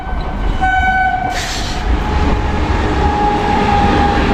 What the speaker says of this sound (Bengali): এখন দেখো পাশ হলো সরাইঘাট এক্সপ্রেস